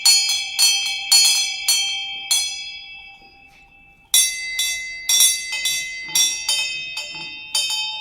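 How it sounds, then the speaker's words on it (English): Many house bells ring loudly together in bright, clanging bursts, struck repeatedly in an irregular rhythm with a brief pause midway before the ringing resumes. "soon it rang out loudly, and so did every bell in the house"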